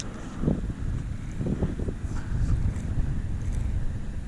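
Wind buffets the microphone with a low steady rumble while bass fishing from a boat on open water, faint water sounds underneath and no talking.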